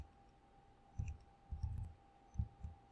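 Calculator keys pressed one at a time, a few soft, close plastic clicks in short irregular bursts, alone with a faint steady hum behind.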